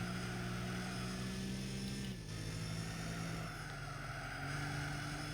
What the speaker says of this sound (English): I just noticed this car sounds like the BMW from Need for Speed High Stakes